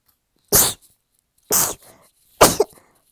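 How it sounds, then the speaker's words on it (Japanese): Three sharp, forceful sneezes burst out about a second apart, each followed by a faint breathy after-sound, close to the microphone in a quiet room. "くしゃみ出そう。"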